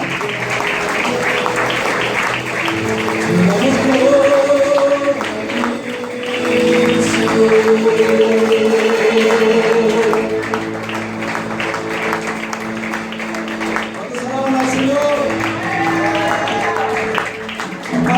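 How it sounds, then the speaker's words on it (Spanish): A church congregation at a Sunday service applauds loudly and steadily for the whole stretch, with music and voices ringing through the dense clapping. "Den un fuerte aplauso al Señor"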